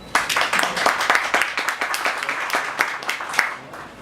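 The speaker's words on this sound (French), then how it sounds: "M. Omer Charbel, que je vous demande d'applaudir." Audience at a corporate speech event applauds the company founder, a dense run of hand claps at steady loudness over the whole stretch with a few sharper individual claps standing out.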